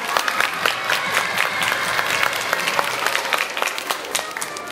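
A school festival audience in Korea breaks into sustained applause for a student quiz performance, dense clapping from many hands filling the hall, fairly loud and steady with a faint murmur of voices underneath.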